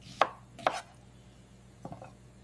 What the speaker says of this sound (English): I am chopping tomatoes.